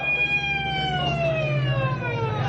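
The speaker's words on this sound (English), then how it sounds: "Let the ambulance through." A wailing ambulance siren sweeps downward in pitch in a radio drama, loud and steady with a low engine rumble beneath it and no voices.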